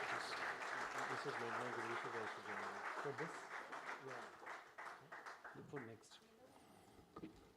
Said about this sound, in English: Let's have another big round of applause, ladies and gentlemen.